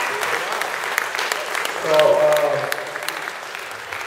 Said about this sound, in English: Can y'all give him a round of applause?